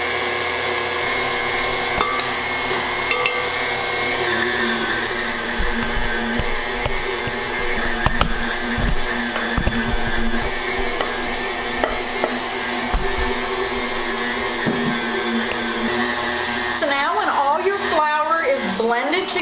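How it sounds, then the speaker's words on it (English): Electric stand mixer blending flour into thick cookie dough, a steady motorized whir running continuously and close, with the pitch wavering near the end and a voice talking over it. "And I'm just going to blend the remaining flour into my mixture."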